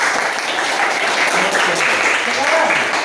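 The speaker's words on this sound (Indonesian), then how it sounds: "Sekali lagi Bapak minta tepuk tangannya" Classroom students applauding at a teacher's request, a steady dense clapping wash that stays loud and even throughout, with some voices mixed in.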